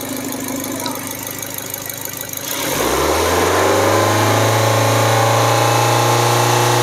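A used Nissan Evalia engine settles into idle after a few seconds of lighter noise, then runs as a steady, loud, close low hum with an even mechanical drone.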